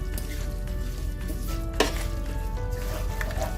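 Biryani masala with chopped mint leaves and cilantro sizzling in a pot on a low stove, stirred with a utensil that scrapes and clinks against the metal over a soft continuous fry.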